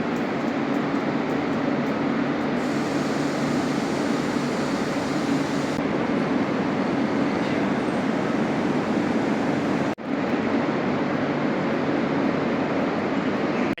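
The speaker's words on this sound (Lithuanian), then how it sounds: "Čia mes esame traukinių stotyje pavadinimu Prancūzų traukinių stotis." Inside Barcelona's França railway station, a loud, unbroken hum of trains and station machinery fills the space, steady throughout with a brief dip near the end.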